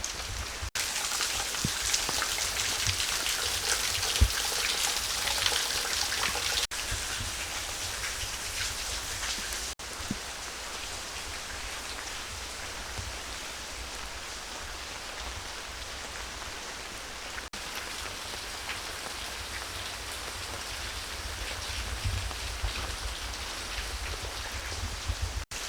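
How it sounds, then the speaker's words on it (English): Steady, solid rain falling at a campground after a storm, a continuous even wash of drops that holds for the whole stretch with no voices. "It's been about 3 hours since the storm rolled in, but it mostly turned into just a solid rain"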